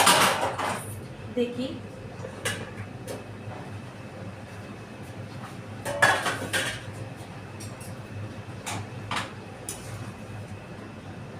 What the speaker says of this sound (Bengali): চলুন আমরা একটু ঢাকনা খুলে